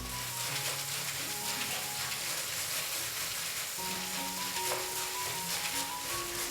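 Chana dal frying in hot oil for a crispy namkeen snack, a dense continuous sizzle with faint bubbling, steady and close with no talking over it.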